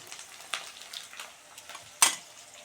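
Peas and tomatoes drop into a pan of browned onions frying in oil, bringing soft sizzling with a few sharp clinks and stirring scrapes, one louder clatter near the end.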